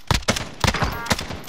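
Rapid gunfire bursts from Call of Duty: Modern Warfare on Rebirth Island, several sharp shots in quick succession, loud and close with little else beneath them.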